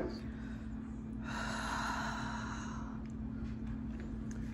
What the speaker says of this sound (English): I'm gonna have my wife exhale on this thing.